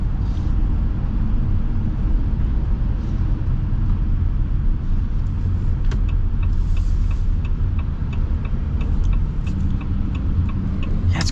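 Steady low rumble of a 2026 Ram 2500 Tradesman work truck with a 6.4L V8 cruising under light throttle, heard from inside the cab, with faint ticking clicks over the continuous drone.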